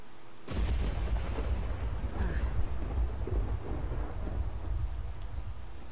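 Heavy rain pours steadily through a Skyrim game scene, with a loud thunder crack bursting in early and rumbling on beneath the downpour, no talking over it.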